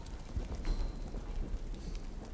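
Rain in the video game Uncharted, a steady dense patter of drops with low rumbling underneath, continuous and fairly loud throughout with no talk.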